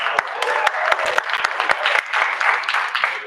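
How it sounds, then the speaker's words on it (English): Audience applause at a noontime show with a guest artist, a lively burst of individual sharp claps from a modest crowd, fairly close and loud. "Giant round of applause."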